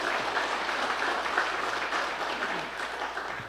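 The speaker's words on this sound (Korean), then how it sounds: "우리 선교사님 나오실 때 힘찬 박수로 환영하겠습니다" A congregation at a Sunday afternoon church service claps vigorously to welcome a missionary to the stage, a dense, steady wash of many hands that holds for several seconds with no voices over it.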